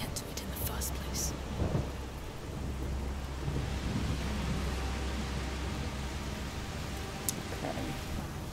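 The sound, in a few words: heavy rain and thunder in A Plague Tale: Requiem video game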